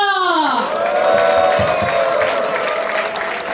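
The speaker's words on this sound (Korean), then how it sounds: "순천편을 여러분들의 뜨거운 박수와 함성으로 시작하겠습니다." Loud crowd applause and cheering open a town hall meeting with citizens in Suncheon, South Korea, with a descending musical tone at the start, then sustained clapping and scattered shouts close by.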